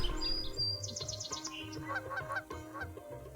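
Repeated honking duck calls in short bursts from a video game level where ducks cross, layered with bright electronic game tones and a bouncy synthetic rhythm.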